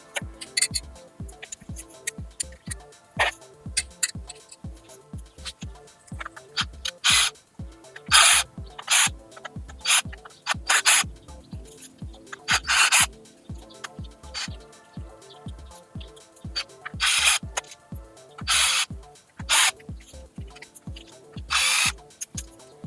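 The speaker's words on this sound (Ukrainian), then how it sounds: "Так, болтики викручені." A power screwdriver or drill whirs in short bursts while bolts come out of an SC001 Start Pro trimmer cultivator attachment, mixed with clicks and a steady ticking pulse, close and without talking.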